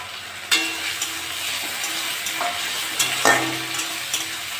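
Crab and prawns fry with half-browned onion in a pan, a steady sizzle broken by a few sharp clatters of stirring; no one talks.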